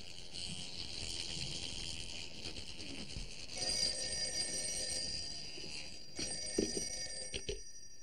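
A telephone rings during a call in a 1958 Jerry Lewis comedy film, a steady bright ringing tone running through most of the stretch with a few sharper knocks near the end, no talking.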